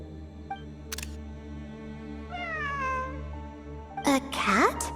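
A cat meows in the video game Genshin Impact, a drawn-out rising-and-falling meow in the middle followed by a sharper, louder pair of meows at the end, heard over a low steady background hum.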